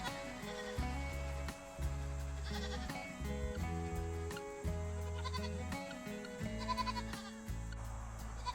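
Goats bleat close by on a farm, a run of loud, wavering calls in quick succession with brief gaps between them.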